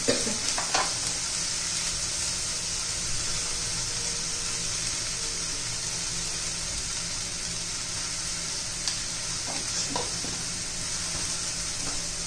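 Green beans sauté in hot oil with a continuous, even sizzle throughout and a few faint stirring clinks near the start and end.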